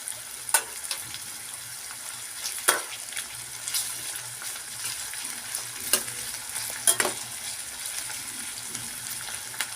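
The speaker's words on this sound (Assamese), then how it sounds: "এতিয়া পিঁয়াজখিনি মই ৰঙচুৱা হোৱাকৈ ভাজি ল'ম" Steady sizzling of onions frying in a pan for mutton curry, with occasional sharp clinks and stirring scrapes over the hiss; no talking.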